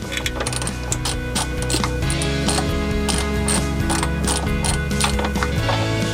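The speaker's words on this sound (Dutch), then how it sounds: "Dus deze is een kwestie van nog verder losdraaien." Ratchet working loose stubborn rear axle bolts on an Opel Astra GSi 2.0 16V C20XE with a rotten rear axle: steady rapid clicking of the pawl over six seconds, close and loud, with metallic mechanical clatter and no talk.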